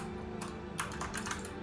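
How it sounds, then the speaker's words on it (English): Soft typing on a computer keyboard during a Satisfactory play session, a quiet cluster of rapid key taps over a low steady game hum, with no talking. "Oh, I'm typing again."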